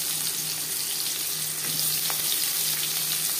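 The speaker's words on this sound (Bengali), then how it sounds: "এখানে আমি 3 চামচ রিফাইন্ড অয়েল গরম করে নিয়েছি। দিয়ে দিলাম 2টো পেঁয়াজ।" Two cut onions, in large pieces, sizzle in three spoons of hot refined oil in a pan for a chicken liver and gizzard chorchori. A steady close frying hiss runs throughout, with faint stirring.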